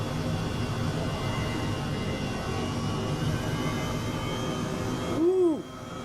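An Airbus helicopter lifting off in Microsoft Flight Simulator, its steady turbine whine and rotor drone holding evenly, then swelling briefly with a sweeping tonal shift near the end before dropping back.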